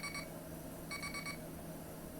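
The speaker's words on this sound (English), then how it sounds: "Thank you for the beeping." Electronic alarm beeping in short repeated bursts during a pineapple beer brew day, two clusters of rapid high beeps about a second apart over a steady background hum, with no talking.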